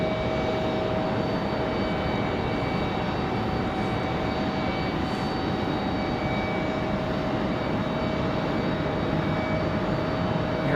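An American airliner arriving from Miami at Raleigh-Durham airport roars steadily overhead, a loud, continuous jet engine rumble and whine that fills the scene without any talking.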